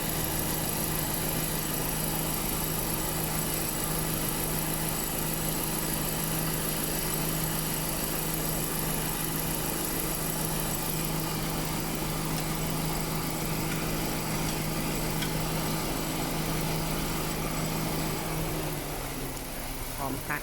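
A 2014 Nissan Juke engine idles steadily with its AC compressor running, a continuous low hum and faint mechanical whirring, unchanging throughout, slightly fading near the end.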